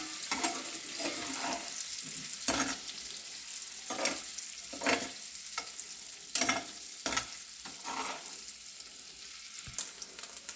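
Paneer cubes fry in a pan with a continuous soft sizzle, broken by repeated scraping stirs and clinks of the spatula at irregular intervals, with no talking.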